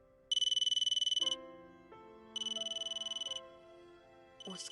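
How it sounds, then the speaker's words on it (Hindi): A mobile phone ringtone plays a bright repeating tone in bursts, alternating with a melodic chime pattern, loud and close, with no talking. "उसका फोन यहाँ क्यों है?"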